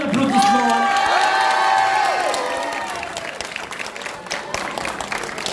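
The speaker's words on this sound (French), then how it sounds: "Vous pouvez lui faire un tonnerre d'applaudissements." A concert audience at a Japanese pop show in Saint-Malo bursts into loud applause and cheering, with high shouts and whoops over the first seconds, then the clapping carries on at a slightly lower level.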